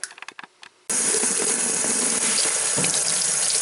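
Mud being rinsed out of a Nissan Rogue EVAP system part: a few short clicks and knocks, then a tap suddenly turns on and water rushes loudly and steadily over the part.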